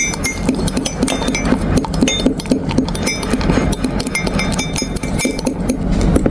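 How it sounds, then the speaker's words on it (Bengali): A spoon stirs coffee with powdered milk, sugar and hot water in a cup, making rapid, loud, continuous clinking against the sides that goes on without pause. "মিক্সিং"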